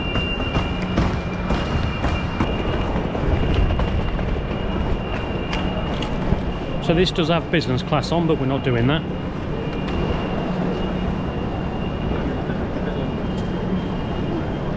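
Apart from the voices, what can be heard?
Elizabeth Line class 387 train running, heard inside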